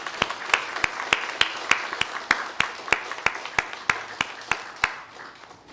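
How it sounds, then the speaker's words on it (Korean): A church congregation claps in a steady, evenly spaced rhythm, the sharp claps standing out clearly and moderately loud for several seconds with no talk over them. "우리 축하의 박수 한번 보내겠습니다."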